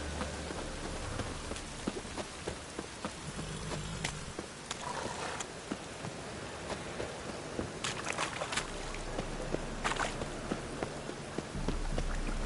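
Steady rain in a video game patters across a surface, a dense hiss with scattered drops and occasional brighter splashes, continuous throughout with no voices.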